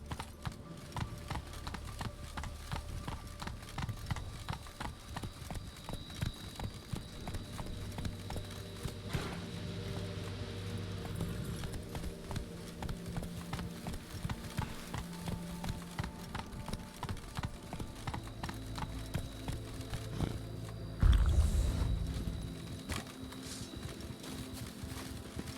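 Roach the horse clip-clops steadily in the game Witcher 3, a continuous, close rhythm of hoofbeats over game ambience, with a brief louder thump near the end.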